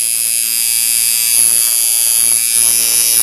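Coil tattoo machine, a heavy solid iron workhorse build, running steadily on its own with a constant electric buzz and hum that wavers slightly in the middle, with no talking.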